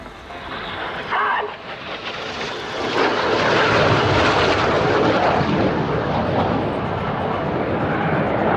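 RAF Red Arrows jets in a flying display at Volkel air base, engine roar swelling from a distant whine to a loud, sustained rushing drone as the aircraft pass, with a voice talking over the noise.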